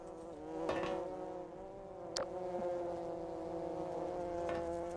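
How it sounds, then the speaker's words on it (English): Flies buzz in a steady, moderately loud drone around a dumpster in the game Gmod, the hum wavering in pitch with a sharp click near the middle and no one talking. "This is the sound of flies."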